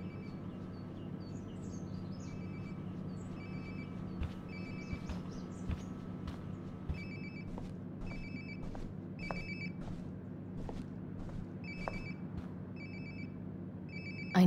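A phone in the video game Life Is Strange: Before The Storm rings with a repeating electronic chirp in short regular bursts, moderately distant over a steady low ambient hum throughout.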